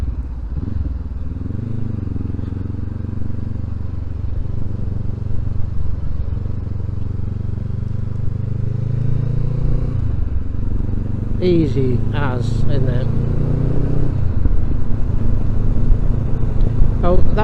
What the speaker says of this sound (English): that exhaust, by the way, hasn't got a baffle in it. So I'm getting some really nice pops and bangs on the overrun